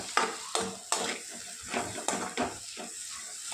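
Chopped onions and green chillies are stirred in a pan for spicy egg curry, with repeated close scraping strokes in a steady rhythm over a light sizzle and no voices.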